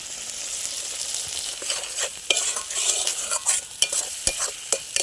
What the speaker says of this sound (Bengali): এটাও কিছুক্ষণ সময় আমি কষিয়ে নেব।